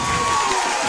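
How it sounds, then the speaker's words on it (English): A large high school football crowd roars and cheers after a touchdown by Calvert against Monroeville, a brief, loud, continuous wash of voices. "Everybody cheering."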